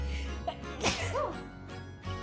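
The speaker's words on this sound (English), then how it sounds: "the message is I'm gonna sneeze." A single sharp sneeze, close and sudden, with a quick intake before it and quiet background noise afterward.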